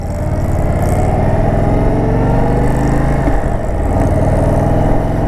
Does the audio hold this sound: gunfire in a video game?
no